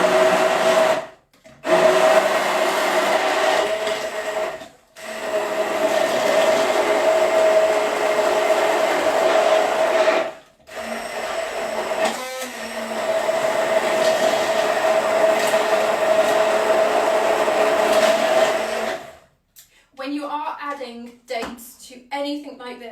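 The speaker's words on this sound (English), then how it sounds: "What would my life be without a hand blender?" A hand blender purées pitted dates for a vegan banana sticky toffee pudding, whirring loudly in three long bursts separated by brief pauses, followed by a few seconds of talking at the end.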